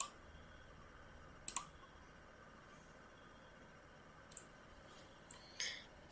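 A computer mouse clicks a few times, sharp isolated clicks near 1.5 seconds and again toward the end, quiet in an otherwise still room.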